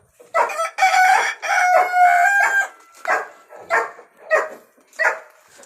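A rooster crows and chickens cluck close by. The calls are loud and repeated: a long crow early on, then several shorter bursts in an uneven rhythm, with no talking.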